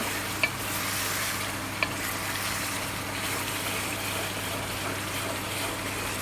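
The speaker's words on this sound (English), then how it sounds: "So just let it cook, constantly keep stirring it" Meat browning in oil in a pan for a cheesy pasta bake, stirred constantly: a steady close sizzle and hiss with scraping stir sounds and two sharp clicks of the utensil against the pan.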